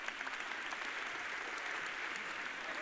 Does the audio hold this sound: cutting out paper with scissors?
no